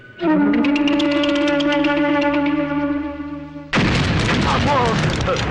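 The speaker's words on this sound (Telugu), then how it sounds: "ఇక్కడ అన్ని కరెక్ట్ గానే పేలుతున్నాయి" A dummy firecracker bomb goes off in a comedy film scene: one sudden, loud, broad blast cuts in after a long sustained tonal musical passage and keeps ringing to the end.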